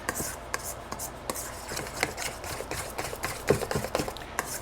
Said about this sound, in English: we're going to give this a real good stir until all the ingredients get absorbed